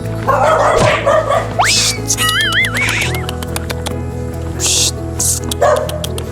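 Several dogs bark and yip nearby in short bursts, with a whimpering whine, over a steady background hum.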